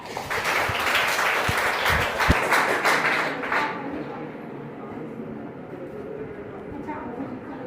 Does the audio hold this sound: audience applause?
yes